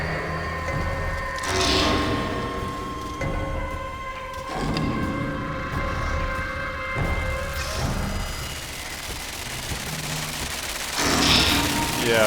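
Gunfire in the shooter Crysis 2 Remastered comes as rattling bursts and booms over a steady drone of game music and ambience, fairly loud but blended into the mix.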